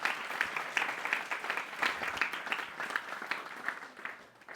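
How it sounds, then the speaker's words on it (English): Audience applause at a Vyasa Puja address in London, a moderate patter of clapping from a gathered crowd that holds steady for several seconds and then thins out at the end. "Please applaud that."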